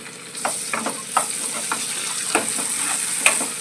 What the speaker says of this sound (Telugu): ఇప్పుడు దీంట్లోనే కట్ చేసి పెట్టుకున్న 2 టమాటాలు వేయాలి.